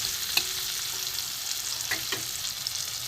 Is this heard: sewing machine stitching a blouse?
no